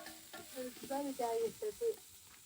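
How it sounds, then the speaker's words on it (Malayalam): Onions sautéing in coconut oil in a pan, a faint, soft sizzle with a few brief stirring scrapes over about two seconds, heard close but quiet. "അമ്മേന്റെ വെളിച്ചെണ്ണയിൽ ഇങ്ങനെ ഉള്ളി വാട്ടുമ്പോൾ നല്ല മണം വരുന്നില്ലേ"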